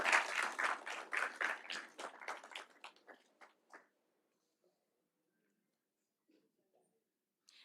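Graduation audience applause rings out in a brisk burst of clapping that thins to scattered claps and fades to near silence within about four seconds.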